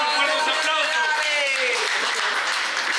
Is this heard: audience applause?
yes